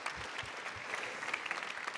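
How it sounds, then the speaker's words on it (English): Audience applause at a hackathon pitch event, steady dense clapping at a distance, fairly faint, continuing throughout without speech. "Christoph, a big applause for your ICT."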